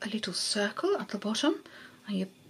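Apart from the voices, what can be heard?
No distinct noise like a dog, phone or traffic.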